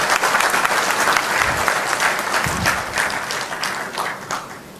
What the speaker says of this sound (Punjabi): ਮੈਂ ਉਮੀਦ ਕਰਦਾ ਵੀ ਇਸ ਦਾ ਆਪਾਂ ਜ਼ੋਰਦਾਰ ਤਾੜੀਆਂ ਦੇ ਨਾਲ ਸਵਾਗਤ ਕਰੀਏ